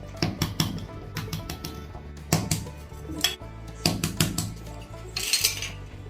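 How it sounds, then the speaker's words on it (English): Metal tart molds being tapped to release kiwi custard tartlet shortcrust pastry shells, a quick series of sharp clinking taps and rattles close by with brief pauses between bursts. "You have to just tap this and it will be coming off from the mold"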